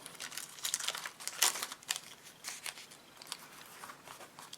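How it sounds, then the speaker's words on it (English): Masking tape peeled away from a painting stencil, a rapid series of crisp tearing and crackling strips, close and steady, with no talking. "Remove the masking tape, put it on place again"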